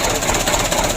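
Worn diesel engine of a 2007 Mitsubishi Canter truck idling roughly, a loud, close, continuous rattling knock with uneven shaking throb throughout.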